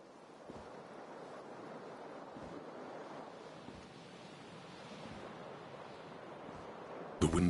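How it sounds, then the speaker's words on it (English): Cold wind blowing in through a broken window in the video game Disco Elysium, a steady hollow rushing roar that holds at an even level throughout, with a brief louder burst at the very end. "Cold wind blows in."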